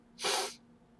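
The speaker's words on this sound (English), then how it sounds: "I dreadfully apologize for having blow my nose while recording" A single short, forceful nose blow, a burst of breathy air lasting about half a second, fairly close and loud against a quiet background, from someone suffering allergies.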